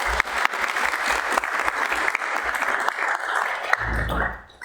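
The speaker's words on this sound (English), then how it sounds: "I just want to give him some acknowledgement and a round of applause" Applause for a new Director of Planning and Zoning at a city dock action committee meeting: a room of people clapping steadily and fairly loudly for several seconds, tapering off at the end.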